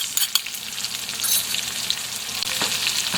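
Garlic and onion sizzle steadily in a hot frying pan where ginger has already been browning, giving a close, continuous hiss and crackle with no talk.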